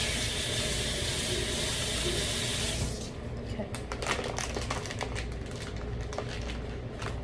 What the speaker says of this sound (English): Come here and rinse my hands out real quick.